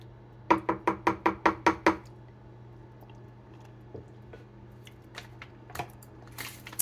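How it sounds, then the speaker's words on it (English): Oil and lemongrass basil simmer sauce are stirred together in a pan. Eight quick, even, wet squishing strokes come first, followed by sparse soft taps and scrapes over a steady low hum. "so we have the oil blended pretty well now. And I'm just going to continue to stir it to blend."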